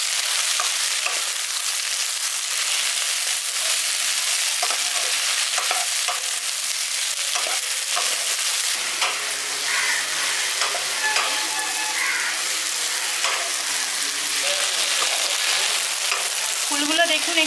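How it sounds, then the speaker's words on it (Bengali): Split Indian jujube fruits fry in a pan for a village-style pickle, giving a steady close sizzle. Repeated scraping and clattering stirs run throughout, and no voice is heard. "কুলগুলো দিয়ে এবার হালকা করে একটু ভেজে নিচ্ছি।"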